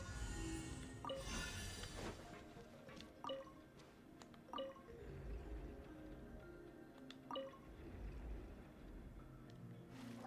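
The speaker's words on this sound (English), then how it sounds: "the water level's gone way up" Water in the video game Genshin Impact rises and fills, heard as a steady liquid wash with scattered distinct drips and plops spaced a second or two apart, faint and close, with no talking.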